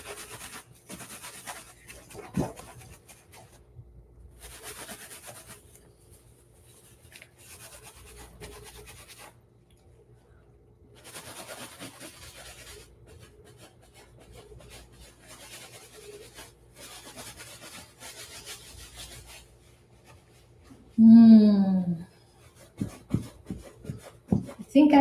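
A napkin rubbed over wet paint on a painting makes a soft, continuous scratchy swishing in repeated strokes. It is faint and close, with a brief voice near the end.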